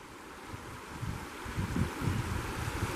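Steady rushing water from a shallow offshoot of the Cispus River, a soft continuous wash with some low gurgling, heard close by with no talking.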